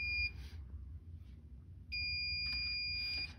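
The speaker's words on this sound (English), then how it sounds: "You see it'll light up and it's going to beep." A Baxter infusion pump starting up gives a brief high electronic beep, then after a pause a longer continuous beep holds steadily, close and clear over faint background noise.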